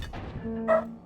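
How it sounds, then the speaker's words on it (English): Dogs bark briefly in the background during a gaming tournament commentary, a short yip or bark-like burst standing out over low background sound. "Sorry for the dogs if you can hear them."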